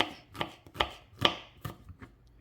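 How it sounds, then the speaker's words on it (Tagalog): Garlic is chopped into small pieces on a board, about a dozen uneven knife strikes at close range, some louder than others, with no talking. "yung ating bawang, dikdikin lang po natin. At hiwain ng maliliit."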